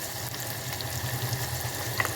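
Onions and masala spices frying in oil for a Maharashtrian-style egg curry, a steady low sizzle with light crackle running evenly throughout, close and moderately quiet.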